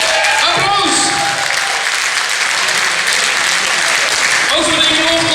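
Loud, dense applause from a carnival song contest audience in Limburg at a prize announcement, a continuous roar of clapping with faint musical tones and a voice emerging near the end.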